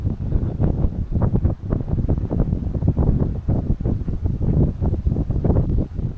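Gusty wind blows across a farm and buffets the microphone in loud, rumbling bursts throughout, with no talking.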